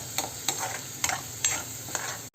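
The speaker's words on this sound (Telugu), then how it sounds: "సో ఈ మసాలా అనేది కాసేపు బాగా ఆయిల్లో ఫ్రై చేసుకుందాము." Masala spices fry in hot oil in a pan, a steady close sizzle broken by several sharp stirring scrapes at an even pace, with no talking.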